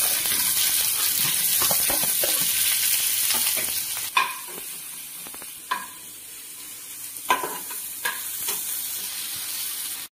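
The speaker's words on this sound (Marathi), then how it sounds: "चला आता आपण कांदा, खोबरा आणि लसूण भाजून घेऊया ग्रेव्हीसाठी" Onion, coconut and garlic roasting in oil for a gravy, a steady close sizzle with stirring, then quieter stretches broken by several sharp scrapes and clinks of a spatula against the pan.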